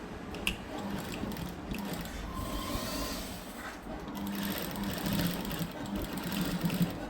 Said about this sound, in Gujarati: તો ચાલો સિલાઈ મારીએ.